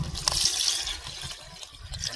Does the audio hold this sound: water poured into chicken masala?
yes